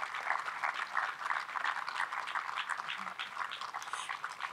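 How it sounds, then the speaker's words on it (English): Applause from a standing audience at a memorial wall ceremony honoring award nominees and winners, a steady, fairly faint patter of many hands clapping throughout, with no speech on top. "Could you all please stand once more, please, for a round of applause?"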